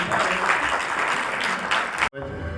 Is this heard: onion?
no